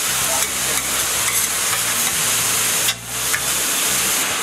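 Butter melts over a kulcha on a hot street-stall griddle, giving a loud, steady, close sizzle that runs unbroken with a faint dip near the end and soft traffic sounds behind.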